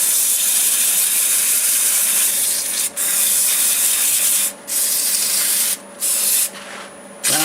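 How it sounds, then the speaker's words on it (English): Sandpaper rubs steadily against a spinning wood turning on a lathe running in reverse, a loud continuous abrasive hiss broken by several brief pauses near the end. "Okay, yeah, I'll sand it in reverse."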